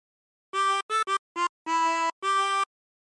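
A harmonica plays a short phrase of Yankee Doodle: six separate reedy notes, blown and drawn, the last two held longer, close and clear with no talk.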